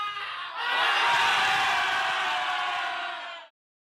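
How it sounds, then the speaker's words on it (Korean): Under-23 national football team players shout and cheer together in a locker room after a win, a loud, dense burst of voices lasting about three seconds before cutting off abruptly. "태극기를 펼쳐놓고 다 함께 함성을 외치는 23세 이하 축구대표팀"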